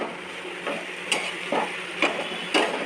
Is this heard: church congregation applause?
no